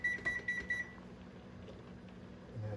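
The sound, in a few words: kitchen timer being set for 6 minutes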